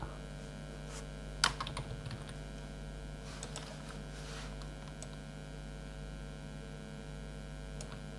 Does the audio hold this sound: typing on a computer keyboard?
yes